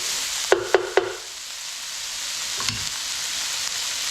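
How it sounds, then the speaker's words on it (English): Eggplant and chickpeas sauté in a skillet with a steady, close sizzle, broken by three sharp scrapes of stirring near the start and a softer knock later on. "And keep on stirring. You want everything sauteed here."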